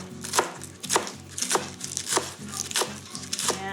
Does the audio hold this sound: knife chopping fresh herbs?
yes